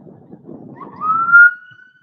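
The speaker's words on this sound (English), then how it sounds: "I'll mute you so you don't get deafened by the siren" An ambulance siren rises and holds steady at night, loud over a low rumble of traffic, then fades out near the end.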